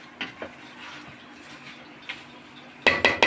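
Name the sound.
stirring rice in a cooking pot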